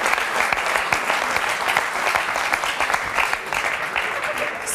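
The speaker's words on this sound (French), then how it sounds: "on peut l'applaudir, notre championne" Studio audience on a French karaoke talk show applauding a woman karaoke champion, dense sustained clapping from a large crowd with no pauses.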